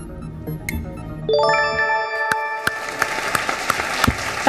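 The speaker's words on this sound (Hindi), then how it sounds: "ताली तो बनती है इनके लिए, इतनी तैयारी जो इन्होंने की है आज।" Studio audience on an Indian TV quiz show bursts into loud applause after a bell-like ding and a rising run of chime tones, the clapping continuing steadily to the end.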